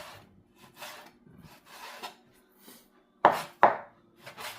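A knife slices through pork belly on a cutting board, with soft scraping strokes followed by two sharp, distinct cuts near the end, close and clear with no talking.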